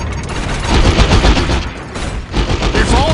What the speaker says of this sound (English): They shooting us!